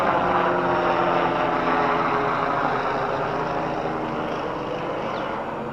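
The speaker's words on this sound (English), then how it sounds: "Lifestar helicopter." A medical helicopter's steady rotor and engine roar passes overhead, loud and continuous throughout, fading slightly toward the end.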